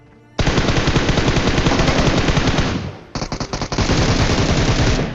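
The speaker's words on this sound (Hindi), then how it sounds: "ये जो फायरिंग है उस टीम को 1 सेकंड के अंदर मारने वाली है" Automatic gunfire from a battle royale video game, loud sustained rapid bursts that break off briefly partway through, then resume as choppier shots before settling into another continuous burst.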